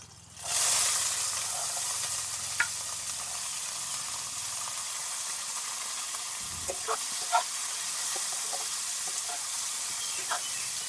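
Chopped carrot, beans, potato and capsicum sizzle in a hot pan, a steady close hiss with a few faint clicks and stirring scrapes and no talk over it.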